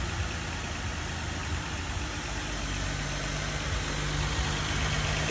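A Mercury car engine idles steadily just after starting, a continuous near, even rumble with low hum and faint vibration throughout, no voices.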